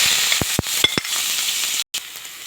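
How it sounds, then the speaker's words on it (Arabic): Chopped onion frying in ghee and oil in a pot, sharp close sizzling with several quick stirring scrapes early on and a brief dropout near the end. "وحطيت نص معلقة سمنة ومعلقة زيت، وهنزل بالبصل المفروم"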